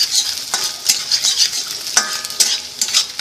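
Finely chopped garlic sautéing in a very hot kadhai over a high flame, a steady loud sizzle broken by repeated scraping stirs of a spatula, close up with no talk.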